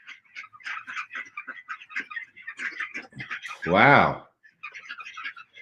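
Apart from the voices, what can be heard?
ducks in a backyard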